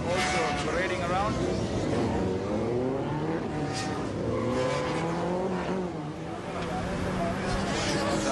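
Race cars and motorcycles on a tarmac circuit at Katukurunda, including a CBR 250, roar past steadily with engine whine and tyre noise under continuous commentary.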